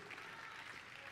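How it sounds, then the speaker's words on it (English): A church congregation claps briefly during a sermon, a short burst of applause heard faintly at a distance. "Three claps and an amen, but Pastor Jay's preaching good."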